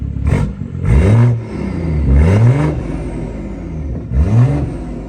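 A BMW B58 inline-six engine revs in several short bursts, each rising sharply in pitch and falling back, loud and close, with a deep throaty tone between pulses.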